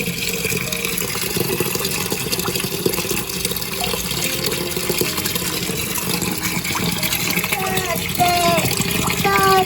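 Water pouring steadily into an aquarium fish tank during refilling after cleaning, a continuous loud splashing gush with little change across the clip.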